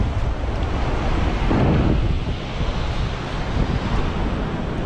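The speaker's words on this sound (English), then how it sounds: "the waves already getting bigger. It's a sign of the tide coming in." Ocean waves roll in as the tide rises on a beach near the sand dunes of Natal, Brazil, giving a steady, loud wash of surf mixed with heavy wind buffeting the microphone, with no voices.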